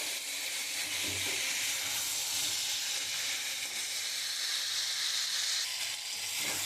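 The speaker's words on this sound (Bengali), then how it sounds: "এই মশলাটা দিয়ে কষিয়ে দিচ্ছি, আর একটু কষবে।" Spice paste for a rohu fish curry with green banana sizzles and hisses steadily in hot oil, a dense, continuous frying noise close up with faint scrapes of stirring and no talking.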